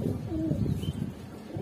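A pigeon coos close by in a breeder's loft of Gribaz mili racer pigeons, a soft, low, rolling coo that fills the short moment alone.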